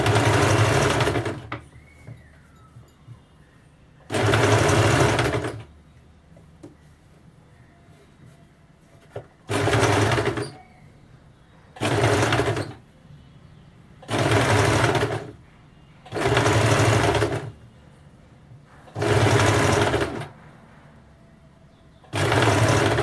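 A sewing machine stitches a blouse in seven separate bursts of steady, loud whirring, each lasting one to two seconds, with quiet pauses between them.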